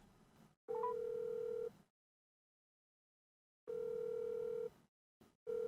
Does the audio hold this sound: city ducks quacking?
no